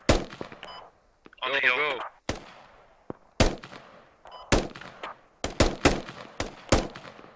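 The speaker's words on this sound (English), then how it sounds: "We're taking fire." Gunfire in the tactical shooter Squad: sharp, loud rifle shots crack in irregular bursts, some near, some echoing farther off, while a radio-filtered voice speaks briefly in between.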